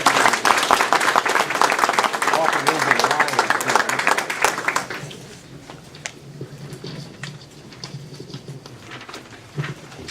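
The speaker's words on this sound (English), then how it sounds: "Let's give them a round of applause for coming" Audience at a community council meeting applauding, a loud burst of many people clapping for about five seconds that then drops off to scattered faint claps and room noise.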